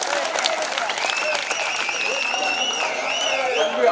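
A crowd claps steadily at a packed public stage event honouring a new performer, the applause continuous and close, with a thin whistle or tonal sound winding over it.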